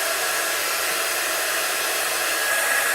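A hair dryer blows steadily to dry ink on a handmade card, its airy whoosh constant and close for the whole stretch, with no talking.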